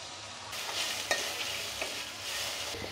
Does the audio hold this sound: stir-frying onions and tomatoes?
yes